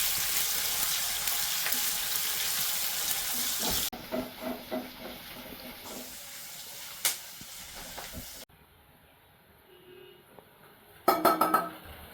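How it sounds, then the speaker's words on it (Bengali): Spices being fried in a pan for a mutton curry sizzle loudly at first, then give way to intermittent stirring scrapes and clinks of utensils against the pan, ending with a brief burst of clattering. "ঝটপট করে মশলাটা কষাই।"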